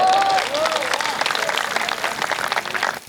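An audience at a Hindi poetry recital (kavi sammelan) claps in a moderately loud, dense wash that fades slightly toward the end. A voice is briefly audible at the start.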